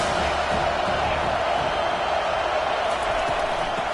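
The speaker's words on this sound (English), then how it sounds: "This crowd trying to make life miserable for this offense." Stadium crowd noise from the NCAA 25 college football video game, a steady, loud roar that runs without a break across the whole stretch as a dense wash of cheering and shouting.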